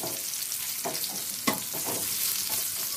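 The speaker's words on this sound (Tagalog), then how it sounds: "I-fry muna natin." Garlic fries in oil in a pan, a continuous moderate sizzle broken by a few soft scrapes and one sharper clack from stirring; nobody speaks.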